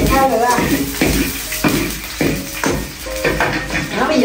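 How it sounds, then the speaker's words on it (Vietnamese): Amaranth greens stir-fried in a pan, with a steady sizzle and rhythmic stirring scrapes about every half second, close and fairly loud, with some voices in the background. "bây giờ chị sẽ xào rau dền nữa là xong"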